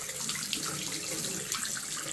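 Water flows from a pipe thawed after being frozen with a pipe freezer, a steady hissing rush that runs continuously without speech.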